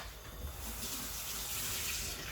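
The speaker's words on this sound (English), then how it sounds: "Let me wash this spoon and give it a stir." Running kitchen tap water splashing steadily over a spoon being washed in a sink, a continuous close, even rush of water with no voices.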